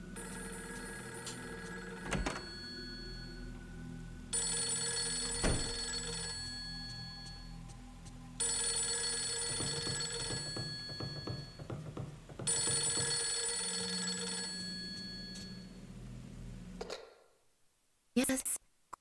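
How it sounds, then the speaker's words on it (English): A telephone rings in the video game Fatal Frame III, repeated bursts of an electronic bell separated by short pauses, set over low ambient game sounds, ending with a click as it is picked up. "But first, let's answer the phone."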